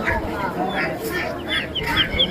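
Chickens and ducks cluck and squawk at a village poultry and livestock market, several birds close by with a busy crowd murmuring underneath.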